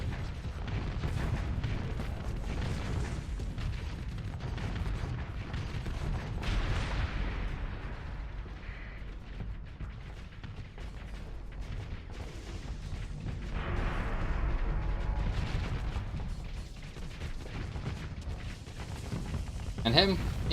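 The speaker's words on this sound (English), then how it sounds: "I see the Kapesh bombing runs going through." Bombing runs and explosions in the space combat game Starsector rumble continuously, with deep booms and artillery-like blasts swelling in waves under steady background game noise.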